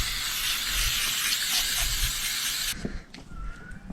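Steady broadband hissing rub of scrubbing on an engine block coated with oven cleaner, close and continuous, then stopping abruptly and leaving a few small knocks and quiet background.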